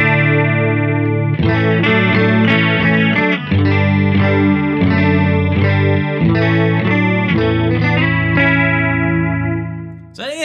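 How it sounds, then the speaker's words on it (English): A distorted electric guitar with chorus-like shimmer plays through the stereo expander of a GFI System Enieqma dual-channel EQ and boost pedal, strummed chords and riffs ringing loud and steady for several seconds, without any talking. "a stereo expander so that can widen your stereo image using time-based effects"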